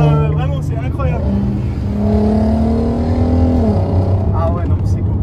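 A Volkswagen Golf 5 R32 engine climbs through the revs in a rising, near, sustained tone, then eases off. Excited speech in French runs over it.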